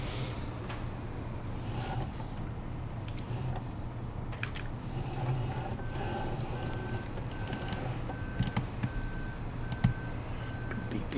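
Truck reversing beeper in Farming Simulator 17: a steady series of short, evenly spaced electronic beeps over the continuous rumble of an idling engine, the beeps coming in partway through.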